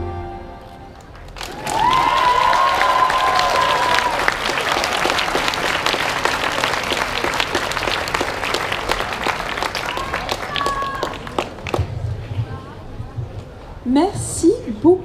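Audience at an autumn 2019 Japan cosplay contest applauds and cheers for a performer presented as Queen Himiko, with dense, loud clapping sustained for over ten seconds before tapering, and voices heard over it.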